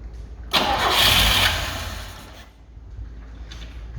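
An old car engine with a choke is cranked and briefly catches with a loud burst, then sputters and fades back toward quiet, followed by a faint second attempt near the end.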